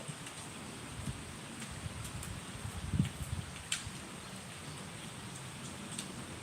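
Rain falling steadily outdoors, a soft continuous patter with occasional louder drops, fairly faint and even throughout, with no voices.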